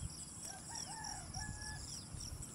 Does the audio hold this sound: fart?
no